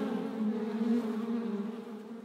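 Honey bees performing the waggle dance inside a vertical hive make a close, continuous droning buzz with a steady tone and slight shifts in pitch, heard alone.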